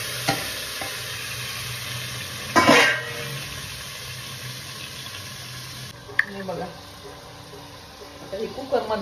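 Oil sizzling in a pressure cooker as a tempering is started for a spicy goat tripe curry: a steady hiss with a sharp louder burst early on and scattered clatter, plus faint voice sounds.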